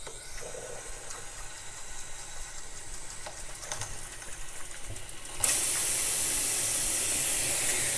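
Water from a repaired kitchen faucet starts as a low, uneven trickle, then abruptly turns into a steady, loud hissing rush as the tap opens further.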